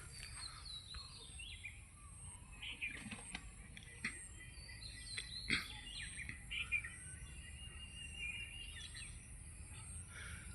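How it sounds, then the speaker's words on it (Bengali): A flock of birds settles onto tree branches, scattering faint, distant chirps and tweets over a soft background hum of insects. "এই দেখেন প্রচণ্ড পাখি আসতেছে, গাছের ডালায় বসতেছে।"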